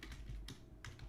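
Typing on a computer keyboard, a quick burst of a few key clicks in two short clusters, fairly faint over low room noise, with no talking.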